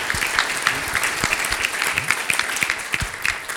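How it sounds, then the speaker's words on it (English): Audience at a panel discussion applauding, a dense, steady patter of many hands clapping at close range that continues evenly throughout. "let's give Sandy and her team a big round of applause"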